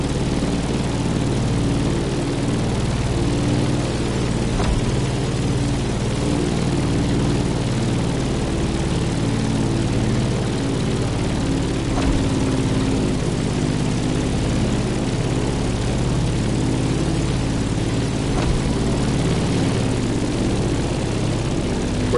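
A propeller plane drones in The Crew Motorfest racing game. The low, even engine hum holds steady and loud for the whole stretch, with no voices.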